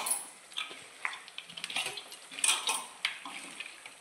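Whole garam masala spices being stirred and mixed in a pot for mutton biryani: soft scraping and light clinking of a utensil in an irregular rhythm, close and fairly quiet, with no talk.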